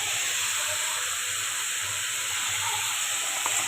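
Bitter gourd fries in a pan with a steady, even hiss of sizzling oil that runs unbroken throughout, with no voices.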